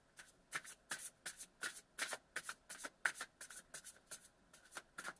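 Tarot cards being shuffled by hand at close range, a quick irregular run of crisp riffling snaps and flicks with no talking.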